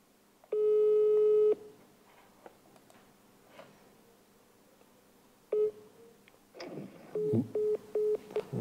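A phone call to a town mayor goes unanswered: a long steady ringback tone, then after a pause a burst of dialing beeps and several short repeated tones, loud and close with no talking.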